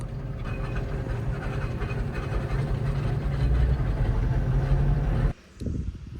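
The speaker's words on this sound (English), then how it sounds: "Being held up by a steam engine." A steam engine on a farm road approaches as a loud, steady rumbling chug that builds over several seconds, then cuts off abruptly near the end.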